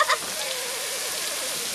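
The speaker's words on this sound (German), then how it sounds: "Leider, Majestät, weint Phoebus heute Regen." Rain falls as a steady, broadband hiss that fills the whole stretch evenly and sits at a moderate level. A brief faint sound comes at the very start.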